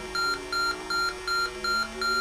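Repeated electronic beeps from Super Monaco GP on the ZX Spectrum: six evenly spaced, sharp tonal pips in a steady rhythm over a low running engine-like hum, fairly close and clear.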